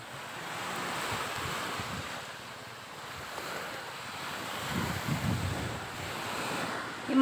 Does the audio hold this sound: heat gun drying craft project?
no